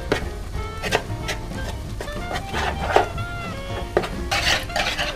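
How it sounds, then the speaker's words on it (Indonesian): A utensil stirs flour into bakpao dough in a bowl, giving repeated light scraping and clinking taps against the bowl at an irregular pace, close and clear with no talk. "Masukkan tepung. Aduk sampai merata."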